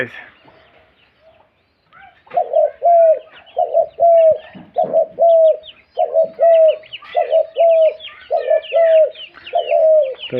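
Pet pigeons kept at home cooing in a steady repeating series of soft, low calls, close and clear, with faint chatter of other birds behind them.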